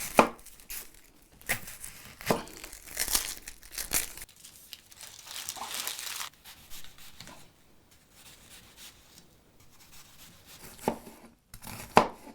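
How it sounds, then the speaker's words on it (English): A knife chops an onion on a cutting board while ingredients are prepared for a tomato-based dish, giving a series of crisp, close taps and crunchy slices in uneven bursts with short pauses between them. "let's go ahead and get started on chopping up that onion"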